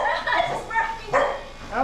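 A dog barks and yips in short bursts at close range while people talk and greet it over and around the sounds.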